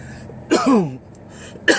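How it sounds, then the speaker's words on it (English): A single throaty cough with a rough, clearing quality, followed moments later by the start of another, close to the listener. "just a little bit of cough"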